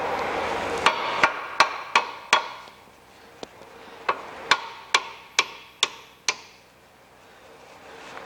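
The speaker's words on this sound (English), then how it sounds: "I'm going to hit it with a hammer gently so I don't damage the threads." About a dozen sharp metallic taps from a hammer striking a nut on a Ford Mondeo drive shaft, spaced roughly evenly, close and fairly loud, with no talking.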